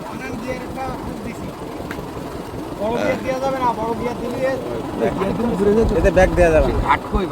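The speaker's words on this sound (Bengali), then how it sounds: "বেলায়েত সর্দারের ছোট্ট ট্রলারটি নিয়ে আমাদের এবারের সফর বেশ জমেছে" A small motor trawler boat's engine throbs low and steady on a river while people talk over it, with wind buffeting and the rumble growing louder toward the end.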